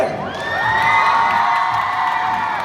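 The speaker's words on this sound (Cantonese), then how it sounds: "大家除咗要俾掌聲我哋嘅 fans 之外咧，最緊要俾掌聲係今日勞苦功高，為我哋滿足咗好多 fans 願望嘅 N" A crowd cheering and shouting loudly, high excited voices blending into a sustained roar, with some clapping underneath.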